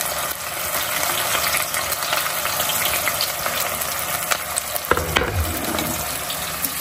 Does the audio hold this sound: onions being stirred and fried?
yes